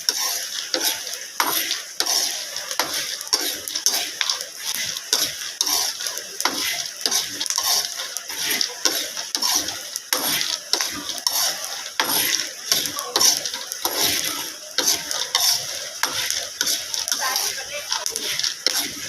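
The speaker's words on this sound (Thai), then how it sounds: "เราต้องใช้ไฟอ่อนๆนะคะ แล้วก็ต้องคั่วนานๆ หน่อยนะคะ" Krabok seeds being dry-roasted in a pan over low heat, stirred steadily so the seeds scrape and rattle across the metal in a continuous, close rhythm.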